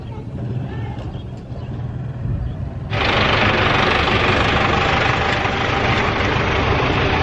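Steady engine rumble of tractors, tricycles and jeepneys idling nearby on a busy street in Bantayan, Philippines, growing suddenly louder as a closer engine joins, with faint street bustle underneath.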